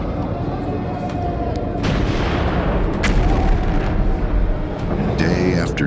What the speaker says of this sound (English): Ottoman cannons opened fire. The ancient walls shook beneath the bombardment.